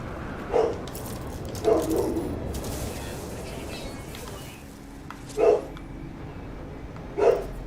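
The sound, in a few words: dog barking in the background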